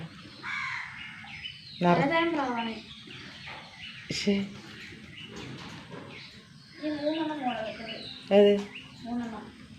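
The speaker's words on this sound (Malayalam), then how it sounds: "കാക്കയും പ്രാവും" Crows caw in short harsh bursts at intervals, with softer pigeon calls between them and some voices in the background.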